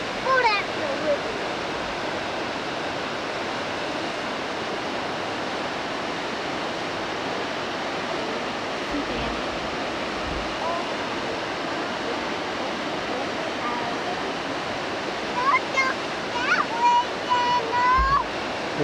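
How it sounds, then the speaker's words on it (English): A river flows steadily nearby as a continuous broadband rush of water, with a short burst of children's voices near the end. "Oh, that's the river."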